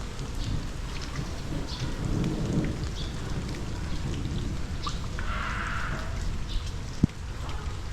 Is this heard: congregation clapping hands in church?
no